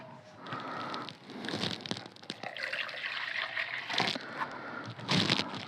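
Water splashes and sloshes as a container is rinsed out while preparing a treatment for strawberry plant disease, with close liquid swishes and gurgles in short bursts.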